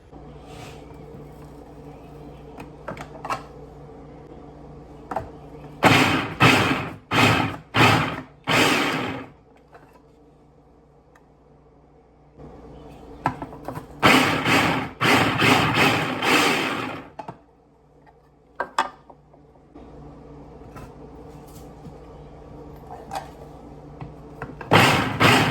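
Hamilton Beach food processor chopping cauliflower: three loud bursts of motor whirring, each made of several short pulses, separated by quieter stretches of faint kitchen background.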